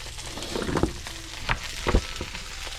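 Cornstarch and chicken sizzle in a hot pan on medium-high heat, a soft, low-level frying hiss broken by a few brief pops and crackles.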